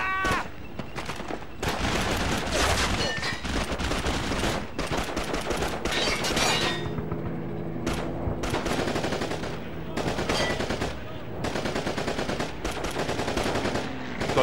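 Sustained machine gun fire in the Call of Duty: Big Red One battle, dense rapid bursts rattling almost continuously with short gaps, loud and close, mixed with distant shots and battle noise.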